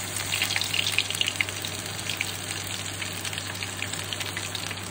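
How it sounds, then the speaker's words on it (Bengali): Coriander fritters frying in hot oil give off a steady, fairly quiet sizzle with a few soft crackles, over a constant low hum and without any speech. "এবার এক এক করে সব কটা ধনেপাতার বড়া ভেজে নেব।"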